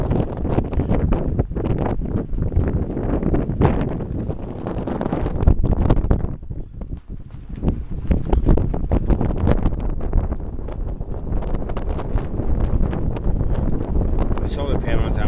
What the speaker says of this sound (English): Straight wind like this.